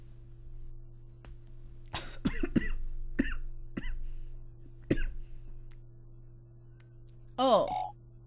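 A coughing fit breaks out in a run of sharp, close coughs and throat clearing, ending in a strained, wheezy burst, over a steady low hum.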